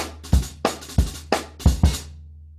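A drum kit played in a fast groove: about six punchy, close hits in quick succession, each ringing briefly, with no voices.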